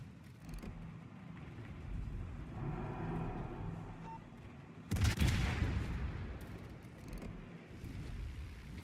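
Heavy booming gunfire and bomb blasts in World of Warships naval combat, with a big explosive impact about midway through rumbling over steady engine and battle noise. No one speaks.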